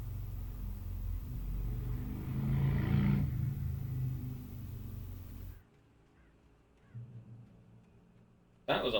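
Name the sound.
motorbike engine roaring past, video game Alan Wake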